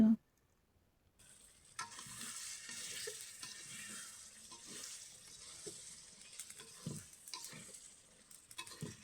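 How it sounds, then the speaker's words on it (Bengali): Country chicken with chickpea dal is stirred and fried in a pan, with a soft steady sizzle and intermittent scraping stirs, close and fairly quiet, with no talk. "নেড়ে চেড়ে কষিয়ে নেব"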